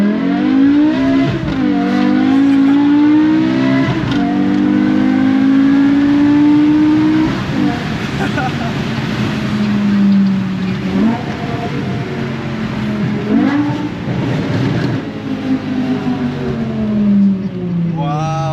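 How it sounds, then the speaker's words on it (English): A 2008 BMW E60 M5's V10 screams through a hard acceleration pull, its pitch climbing steadily and then dropping briefly at each gear change. The loud, close engine note repeats the cycle, with faint voices in the background. "The V10 screaming."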